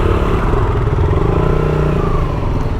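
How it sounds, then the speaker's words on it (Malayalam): A motorcycle engine idles and putters close by as the bike is ridden onto a ferry at Chilika Lake, a steady loud rumble with light clattering and no talk. "അപ്പോൾ ബൈക്ക് ഉള്ളോട്ട് കയറ്റാൻ വേണ്ടി പോവാണ്"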